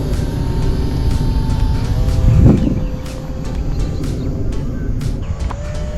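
Savage Bobber RC model airplane on a 1S single-cell conversion with an 800 mAh battery, flying at around 80% throttle in a light breeze: a steady electric motor whine runs throughout, swelling briefly mid-clip as it passes closer.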